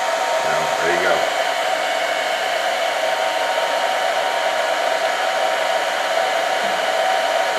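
A hair dryer heats Froglube Mil-Comm gun lubricant, blowing as a loud, steady, close whoosh that runs unbroken through the whole stretch with no one talking.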